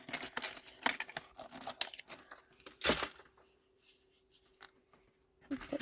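Card stock is cut down to size for stamping, with crinkly paper-handling and cutting noises in a short cluster of bursts, then a loud sharp crunch near the middle followed by quieter scraping; a voice talks faintly underneath.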